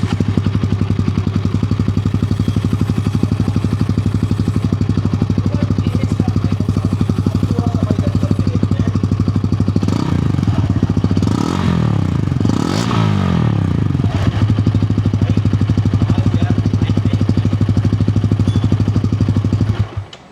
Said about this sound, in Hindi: तो अब सुन लेते हैं भाई हम लोग इसके एग्जॉस्ट साउंड को।